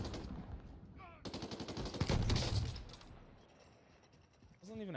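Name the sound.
gunfire in Call of Duty video game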